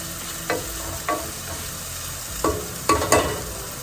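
Lo mein ingredients frying in a pan at a campsite, a continuous soft sizzle close up, broken by several brief scraping stirs.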